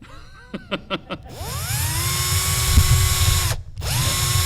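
A hand drill bores into a clamped workpiece held right up to the microphone, starting with a few short bursts, then running as a loud, steady whine with falling pitch, stopping briefly and revving up again.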